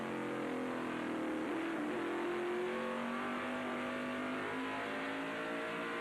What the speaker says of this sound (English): you can see them battling with the number 6 car being driven this weekend by Ernie Irvin from Concord, North Carolina